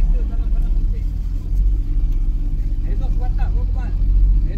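A car engine hums steadily at close range, rolling into a parking lot with low rumbling throughout, while voices talk over it.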